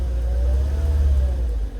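A 2000 Volvo V40 engine runs with a deep, steady rumble that swells slightly as it is revved, heard close and loud with no talk.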